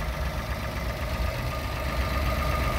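Toyota Aygo 1.0 engine idling quietly and evenly, a faint steady ticking hum heard close with no talking.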